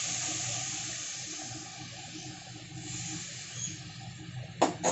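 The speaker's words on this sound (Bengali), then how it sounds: "2 চামচ জল দিয়ে দিলাম" A couple of large spoonfuls of water splashed into a pan of chicken with jackfruit seeds produce a continuous, fairly loud sizzling hiss, with a quick clatter near the end.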